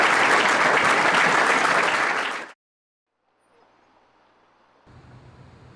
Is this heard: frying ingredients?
no